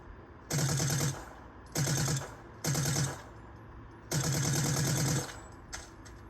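Fortnite Valve Precision SMG fires in four rapid-fire bursts, each a fast, buzzing stream of shots lasting about half a second to a second, with short pauses between them.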